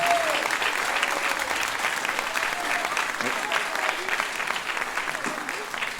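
An audience applauds at a Démos youth orchestra concert, a sustained burst of clapping lasting several seconds, with faint voices and a brief tonal sound near the start underneath.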